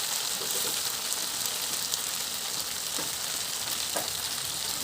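Chicken and potatoes frying in hot oil in a pan, a loud, steady, dense sizzle filling the whole stretch, close up, with a few faint stirring scrapes and no talk.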